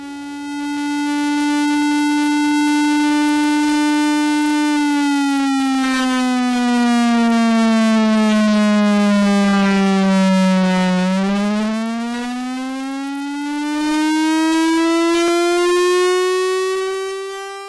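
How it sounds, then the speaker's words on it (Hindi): A loud wailing siren played over large loudspeakers at the India–China border blares continuously, its pitch sliding slowly down and then rising again, with a harsh, amplified tone. "इनमें सायरन की आवाज जोर जोर से बजाई जा रही है"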